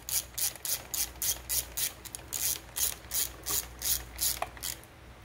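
Ratchet tightening spark plugs on a 2017 Yamaha 115 SHO outboard engine, a steady run of quick, close clicking strokes in regular bursts, fairly quiet and alone.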